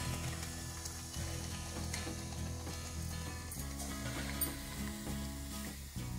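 Snacks puff up as they fry in hot oil, giving a continuous crackling sizzle with soft background music underneath and no talking.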